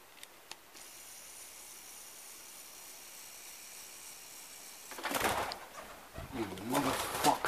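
A pigeon coos inside an abandoned hospital in Bangor, North Wales, soft and somewhat distant against a hissy room tone, followed by a louder burst of fluttering and movement near the end.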